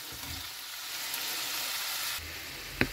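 Cherry tomatoes hit a pan holding a fish-based sauce with white wine, giving a quiet, steady hissing sizzle with a shift partway through and a couple of light clicks near the end.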